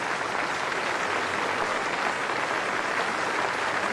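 A cricket crowd at Wellington's Basin Reserve claps Neesham during a Test against India, a steady, even wash of applause that carries on without a break.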